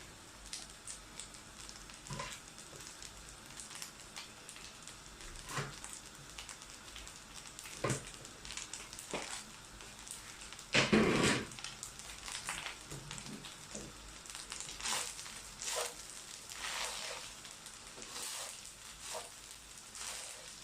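Fried rice sizzling quietly in a pan, a soft continuous hiss punctuated by periodic scrapes and clacks of stirring, with one louder clatter near the middle.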